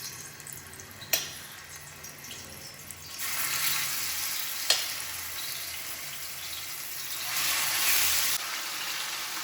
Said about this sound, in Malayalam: ഇനി നമ്മൾ ചിക്കൻ ഒന്ന് വറക്കാൻ പോവാം.